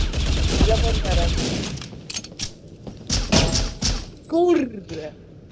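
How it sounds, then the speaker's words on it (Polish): Kalashnikov and revolver gunfire in the Critical Ops mobile shooter game: sharp bursts of shots, densest in the middle, with voices talking throughout. "Mi się dobrze strzela. Kałachem i leworwerem."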